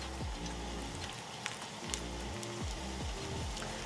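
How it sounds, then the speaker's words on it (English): Cheesecake Factory–style Tex Mex egg rolls frying a few at a time in a pan: a steady, close, crackling sizzle of hot oil with background music, no talking. "starting to sizzle"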